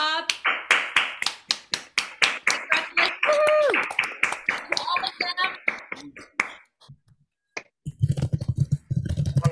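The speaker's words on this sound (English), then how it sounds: "How about another round of applause for all the performers?" Applause from a crowd at a Suzuki music recital, a rapid run of claps at first with a voice speaking over it, then fading to quiet before some muffled noise resumes.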